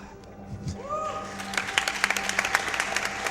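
An audience at the Summer Games Done Quick 2017 speedrun event claps through a Metroid Prime run, a scattered patter of clapping that swells and grows denser toward the end, after a brief tone near the start.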